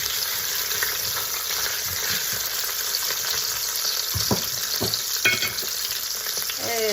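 Lamb pieces searing in batches in a pot, a continuous loud hiss and sizzle of hot fat close up, with occasional crackles, pops and clinks of meat being turned.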